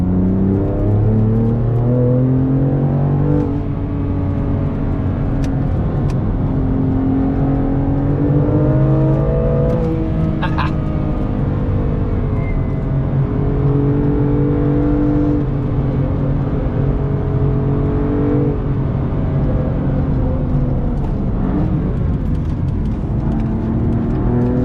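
BMW M2 engine pulling hard through a right-hand corner in third gear, a loud, steady rising and falling drone of revs that runs continuously from start to finish, close and alone with no talking.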